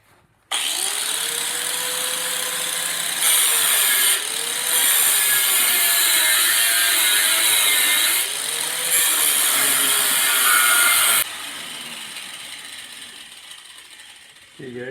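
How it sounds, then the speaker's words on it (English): An angle grinder's cutoff wheel screams loudly through the drive shaft of a 2014 Ford Edge, its pitch wavering as the wheel loads and frees, steady for about ten seconds before easing off. "be careful when you're doing that with the grinder wheel"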